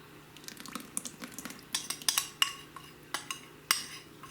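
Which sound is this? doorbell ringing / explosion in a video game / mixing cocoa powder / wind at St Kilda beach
mixing cocoa powder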